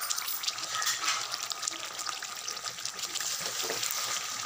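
Stuffed brinjal (bharwa baingan) cooks covered in a pan, giving a steady, moderately quiet frying hiss with a soft, even texture throughout.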